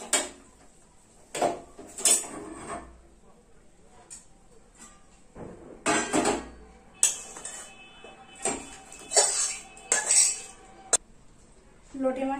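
A pot of sour lote fish curry is lifted off the stove, with scattered metallic clinks and knocks of pots and utensils spaced across a quiet kitchen.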